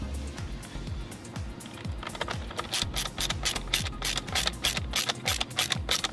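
Screws being driven into the steering wheel trim of a 2013 BMW 335i F30, heard as a fast, repeated ratcheting click that grows louder and more pronounced over the second half, with no talking.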